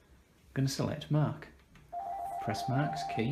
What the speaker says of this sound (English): immediately the phone starts to ring